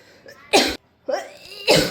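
Two sharp, close coughs break out a second apart, each a short harsh burst, with faint breathy sounds between them.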